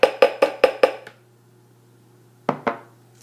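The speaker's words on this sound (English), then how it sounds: "pour them into the blender container." Five quick, evenly spaced clinks and rattles of hemp seeds hitting a blender container, a pause of quiet, then two more short pours, close by.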